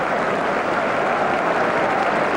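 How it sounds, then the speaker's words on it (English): Football crowd applauding at Anfield during a Liverpool v Southampton match, a dense, continuous wash of clapping from a large stadium crowd, steady and loud. "Southampton sharing in the applause that's resounding around Anfield"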